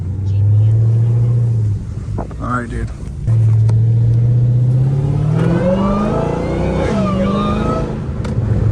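Dodge Hellcat Redeye V8 revving and pulling while driving, a loud, steady mid-pitched engine roar that climbs in pitch as RPMs rise, with people talking inside the car over it.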